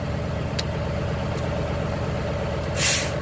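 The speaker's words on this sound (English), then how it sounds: "There's the governor cutout." A truck's air brake compressor governor cuts out near 115 PSI with a short, loud burst of hissing air near the end, over the steady rumble of the idling engine.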